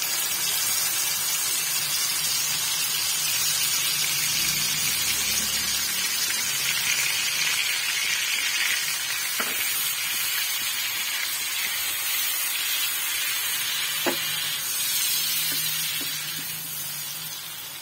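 Whole garam masala spices and ginger-garlic paste frying in a pan for a restaurant-style black pepper chicken, a loud steady hiss and sizzle with a few sharp clicks of utensils, no talking.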